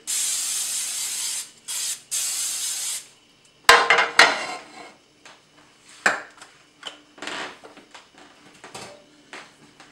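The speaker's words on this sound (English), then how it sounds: "Some pan cooking spray." Several bursts of aerosol cooking spray hiss in quick succession onto a pan at the stove, followed by a clatter of lighter clicks and rubbing noises nearby.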